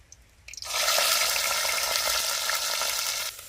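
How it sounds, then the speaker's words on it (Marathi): Stone-ground spice paste hitting hot oil for a village-style mutton dish bursts into a loud, hissing sizzle after a brief quiet start, then holds steady for about three seconds before easing off. "वाटण चांगलं परतून घेऊया एक दोन मिनटं दोन मिनटं चांगलं परतलंय"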